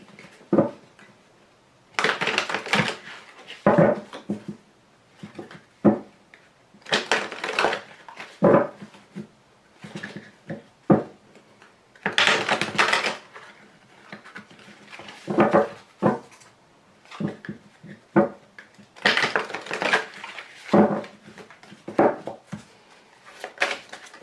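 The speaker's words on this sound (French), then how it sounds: "je vais donc vous tirer des cartes conseils avec les cartes OH" OH advice cards are shuffled and drawn by hand in a series of close, dry rustling and slapping bursts separated by short pauses, with no voices.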